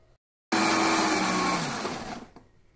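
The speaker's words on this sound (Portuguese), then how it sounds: "Agora é só bater." A kitchen blender whirs into loud, steady blending of a sugar-free lemon juice after a brief silence. It runs strongly for almost two seconds, then winds down and stops.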